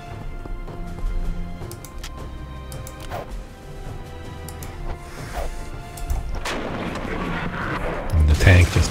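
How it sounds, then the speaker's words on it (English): A tank fires in the World War II battle game Castle Itter, with booming shots and heavy impacts among distant gunfire. The loudest blast lands near the end, over a rumbling battlefield background. "And the tank just took a shot."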